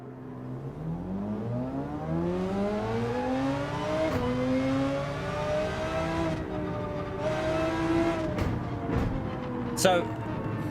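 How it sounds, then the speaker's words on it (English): An Audi R8 race car engine in Gran Turismo 7 revs and climbs through gears with rising, whining pitch, loud and continuous, with speech murmuring underneath. "Listen to this car."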